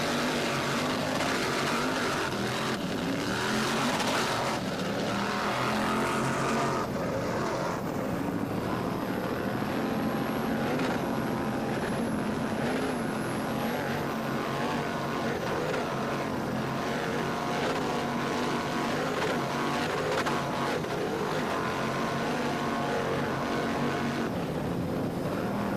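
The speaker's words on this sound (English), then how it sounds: "You can hear Todd Harper working the throttles, those big MDG inboards" Big MDG inboard engines on a racing powerboat roar steadily at throttle during a race, a loud, continuous, droning rumble that holds for nearly half a minute with slight swells and no talk.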